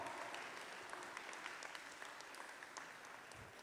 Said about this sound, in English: Can we hear a big round of applause for them, please?